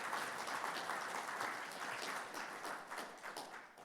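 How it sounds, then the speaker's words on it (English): Congregation applause for outgoing vestry members at an annual parish meeting in St. John's Episcopal Church, Roanoke, a sustained, even patter of many hands in a large room, slightly distant and tapering gently. "Would you give them a round of applause for their service?"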